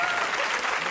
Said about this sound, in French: Vous savez que le public du Grand Cactus applaudit une tentative d'assassinat